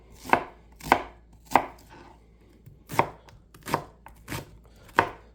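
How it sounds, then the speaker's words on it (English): A knife slices through an onion on a cutting board for beef stew, with about eight crisp, close chopping strokes in an irregular, unhurried rhythm and nothing else heard. "start slicing up your onion"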